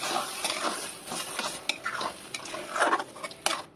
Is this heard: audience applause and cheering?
no